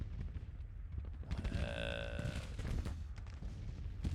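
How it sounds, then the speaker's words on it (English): Massed musket gunfire from a Civil War battle in a strategy video game, a brief crackling volley rising midway over a low rumbling background, with a faint voice nearby. "Can't tell if they're firing as they fall back."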